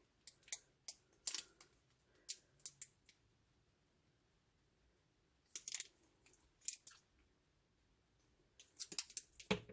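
Scissors cutting paper for handmade card making: sharp, close snips come in quick clusters, separated by quiet pauses. No speech.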